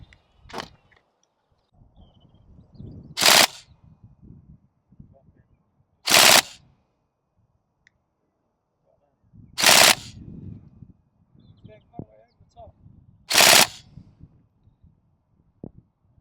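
Airsoft gas blowback rifles fire in four sharp, loud bursts spaced a few seconds apart, each a tight cluster of cracks. Quiet people talk and handle gear between the volleys.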